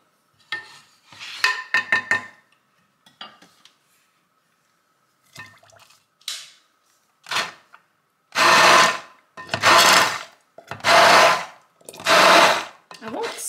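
A blender whizzing thickened, still-warm chili jam in short pulses, starting with scattered clatter and brief bursts that build into several loud, close whirring runs with gaps between them.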